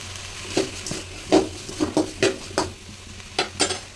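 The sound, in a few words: sautéing ingredients with rock salt in a kadai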